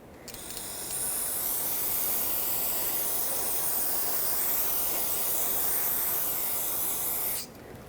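A steady close spray hiss rinses the rear wheel hub of a 2006-2010 Hyundai Sonata during a bearing and hub replacement, running for several seconds before cutting off, with no talk.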